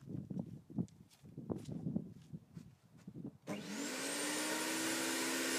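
After a few seconds of knocking and handling sounds, a Lux 2500 electric garden shredder starts up with a loud, steady whining roar. The 2.5 kW, 220-volt machine runs on unbroken, close and loud.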